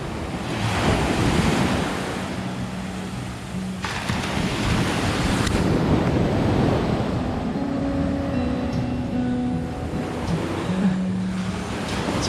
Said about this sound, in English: Oh, right here they got some kind of rocky splash-inducing spot.